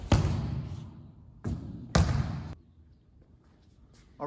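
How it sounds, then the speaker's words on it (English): Feet strike a gym floor during a split step passing drill, giving three sharp thumping impacts with short decays that are close and loud, separated by quiet gaps, with another hit beginning at the very end. "You can hear my feet hitting the flooring here inside the gym."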